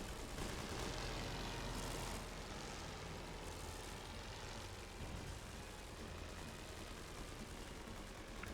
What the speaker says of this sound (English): So enemy planes, our own allied planes.